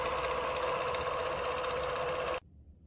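A sewing machine stitches binding onto a quilt in a steady, loud, continuous whir, then stops abruptly near the end.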